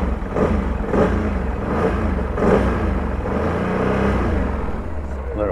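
A Can-Am Renegade XC 1000 ATV engine rumbles close and rough, with several throttle cracks giving repeated surges of revving over a steady, gritty running sound.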